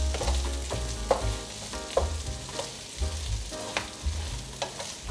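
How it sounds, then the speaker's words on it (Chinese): Lemongrass and pandan leaves stir-frying in a pan with a steady close sizzle, broken by a regular rhythm of spatula scrapes and stirring knocks roughly every second. "继续翻炒"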